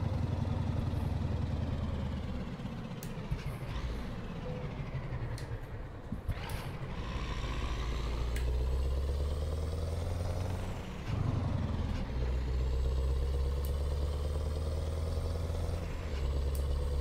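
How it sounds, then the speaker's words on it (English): Open-piped Scania V8 truck engine in a driving simulator game, a loud, deep steady rumble that rises and falls with revs and gear changes, with brief air-brake hisses, running on its own without talk. "This one is the open pipe Scania V8."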